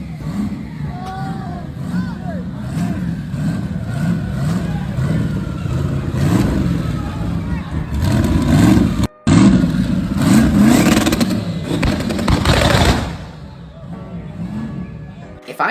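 Modified car sitting high on its suspension, engine revving hard in repeated throttle blips with a loud, raspy burst near the end, over crowd chatter and background voices.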